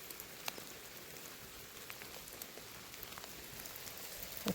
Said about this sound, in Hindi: अभी और बारिश बढ़ती जा रही है।